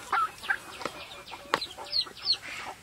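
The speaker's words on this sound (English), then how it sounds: "I'm in the chicken coop, in the small coop with the babies are out today." Chickens clucking in a small coop with young birds, a string of short, close clucks and soft calls at an irregular rhythm, with no talking.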